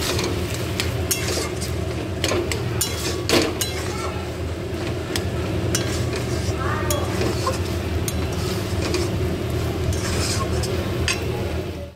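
Sliced ridge gourd (nenua) fries in a pan with a steady close sizzle, broken by repeated scraping and clinking stirs of a utensil against the metal throughout.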